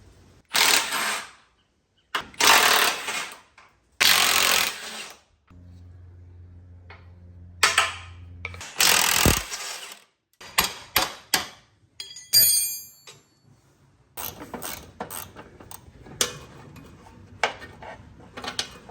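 Bolts come off a 1987 Chevrolet 4x4 pickup's engine mounting bracket on the cross member. Bursts of ratcheting and metallic clanks alternate with pauses, along with a low mechanical hum and scattered tool clatter, with no speech.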